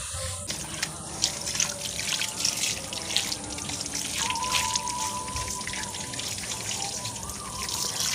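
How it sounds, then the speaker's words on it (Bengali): Water runs from an outdoor tap while someone washes their hands and feet, a steady splashing trickle with drips and shifting flow as the stream hits skin and the ground below. "চলো হাত পাটা এখানে ধুয়ে নিই, মানে কলও আছে একদম, মানে কল আছে।"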